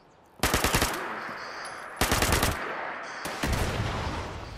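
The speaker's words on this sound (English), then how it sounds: "Someone's got a missile launcher. And he's not afraid to use it." Missile launcher and automatic gunfire in the video game Fallout 76: three loud, close bursts of rapid fire, each starting abruptly, with a sustained roar and rumble between them.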